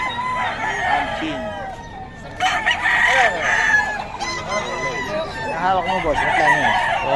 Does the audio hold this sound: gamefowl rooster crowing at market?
yes